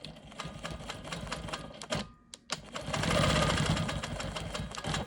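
Rapid, even needle clatter from a sewing machine quilting a line across a quilt block, running steadily with a short break around the middle before resuming louder and fuller.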